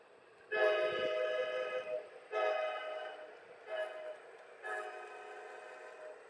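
A Bachmann large scale model train locomotive runs on its track pulling a couple of new cars past a water tower and hand-car shed, giving bursts of loud, harmonic whistle-like tones in four separate blasts.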